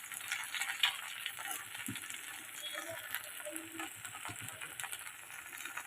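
Chire pulao of flattened rice with ghee and garam masala gets stirred in a pan, soft scraping strokes over a faint, steady sizzle, quiet and close, with occasional light knocks of the spoon.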